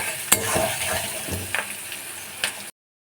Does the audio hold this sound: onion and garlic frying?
yes